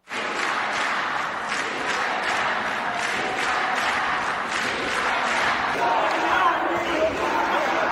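A large, dense protest crowd storming the US Capitol roars and cheers in a continuous wall of sound, with shouting voices blending into a steady, loud din throughout.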